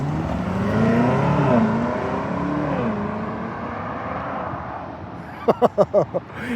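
A 2026 BMW X7 M60i launches hard and accelerates, its engine note rising steadily. Voices talk over the early part, and several sharp thumps follow near the end.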